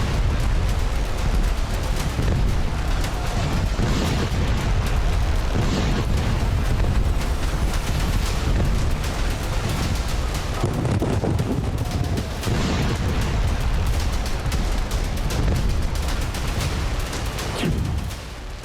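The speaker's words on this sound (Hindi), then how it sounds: "बारूद के बवंडर आसमान को धुएं और धूल के गुबार से ढक रहे हैं।" War footage of the Iran–Israel conflict: a continuous loud roar of explosions and gunfire with several heavier booms rising out of the din, sustained and dense throughout, with no talk.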